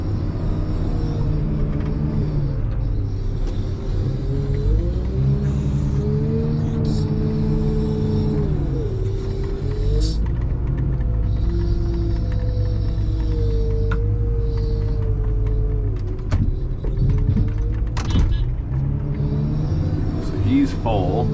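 A loaded truck pulls away in a low, heavy engine rumble that rises and shifts in pitch as it accelerates, steady and fairly loud, with a person talking over it.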